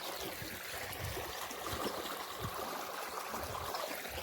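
Irrigation water flows through a fenugreek field, a soft continuous trickling and gurgling, faint and steady with no voices.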